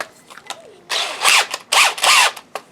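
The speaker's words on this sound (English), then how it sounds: "I'm just going to use a hand drill press. Hand drill, see if I can make that work." A hand drill grinds through plastic in two long bursts, each rising and falling in pitch, with a few short clicks and taps before and after.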